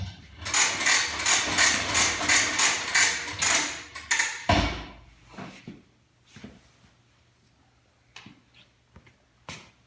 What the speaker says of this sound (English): let me get my rivet gun over here and try this thing out